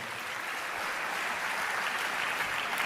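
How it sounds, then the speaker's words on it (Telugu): A church congregation claps loudly during a sermon, making a dense, sustained burst of applause that stays even throughout with no speech over it. "గట్టిగా చప్పట్లు కొట్టి దేవుని మహిమపరచండి"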